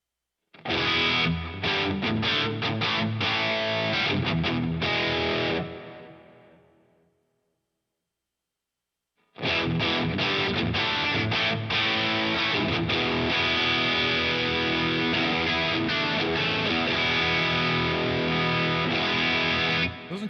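A heavily distorted electric guitar plays through the GigFast iOS amp modeler, with loud, dense chords and riffs, a sudden stop and roughly two seconds of silence, then more sustained distorted playing.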